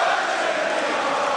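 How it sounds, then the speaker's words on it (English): A packed Wembley Arena crowd at a boxing match between Artur Beterbiev and Anthony Yarde, a continuous roar of cheering voices that holds at a steady, loud level for the whole moment. "Crowd right behind him inside Wembley Arena."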